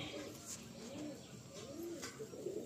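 Breeder pigeons in a loft coo softly in repeated low, rolling calls, with faint background noise and no talk.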